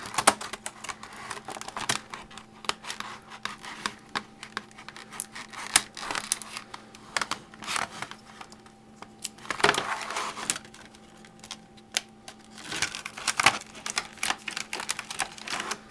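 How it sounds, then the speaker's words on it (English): Scissors or a blade cut through the side of a plastic clamshell package holding a Targus travel tripod, giving close, continuous crackling and snipping with irregular sharp clicks throughout. "I'm guessing the best way to get into it is to just cut through the side here."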